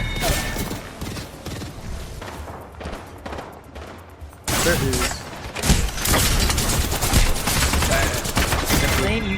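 Gunfire from Apex Legends at a live esports LAN rattles in sustained, loud volleys that grow denser in the second half, mixed with crowd and caster noise and talk.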